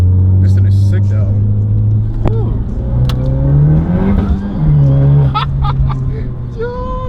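A roughly 400 hp Honda Type R with an HKS exhaust revs nearby, its engine note rising and falling in several pulls, while people talk over it.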